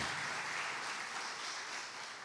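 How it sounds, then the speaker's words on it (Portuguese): A church congregation claps in praise of the Lord, a soft, distant and steady patter of many hands with no voices over it. "mais uma salva de palmas para o Senhor"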